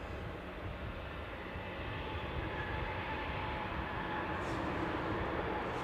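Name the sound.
SunExpress airliner departing Newcastle airport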